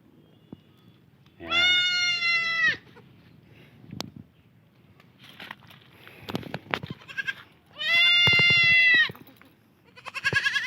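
Anglo-Nubian goats on a farm let out two long, loud nasal bleats a few seconds apart, with shuffling, clattering movement and faint background voices in between.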